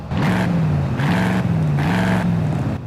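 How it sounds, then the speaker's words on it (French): A Ford Mustang in Forza Horizon 5 roars steadily and loud, its engine note rising and dipping in three pulsing surges without any voices. "cette belle petite voiture qui fait énormément de bruit, mais qui arrache"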